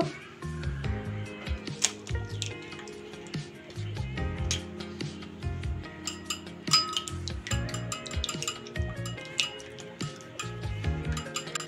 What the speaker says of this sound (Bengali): এখন ডিমটা আমি ফেটিয়ে নিব।